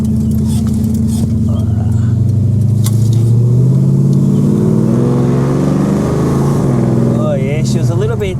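A Ford XW with a 351 Cleveland V8 and Holley carburettor idles roughly and loud, the low engine note sagging and wavering as it nearly stalls, then recovering with a slight rev near the end.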